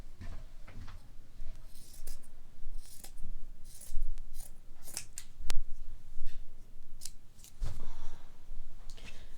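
Scissors snip through an old shirt, cutting down the sleeve line and then straight down to make a braided dulcimer strap; close, crisp, repeated cuts with uneven rhythm and soft fabric rustle, no voices.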